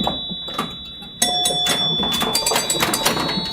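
An electromechanical pinball machine rings out bright bell chimes in several quick strikes mixed with mechanical clatter and buzzing, loud and close after a quieter opening.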